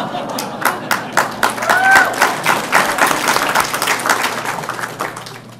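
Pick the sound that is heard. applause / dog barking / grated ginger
applause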